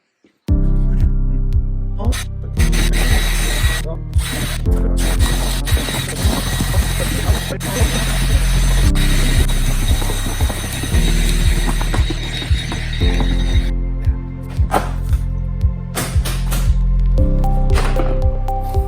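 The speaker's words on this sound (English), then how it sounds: "So, time to drill more holes." A power drill with a 1/8 inch bit whirs loudly and almost continuously, drilling air holes in a plastic bin, its pitch shifting as it bites, with brief stops and start-ups.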